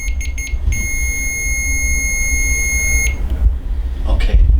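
A single electronic device emits a steady, loud high-pitched beep for about two seconds amid low background rumble, at a paranormal investigation at 94 Court Street in Plattsburgh, New York.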